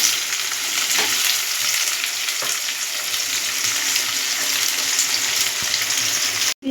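Potatoes and onions fry in a pan, giving a steady, close, crackling sizzle of hot oil that continues unbroken throughout, with a few faint knocks and no talking.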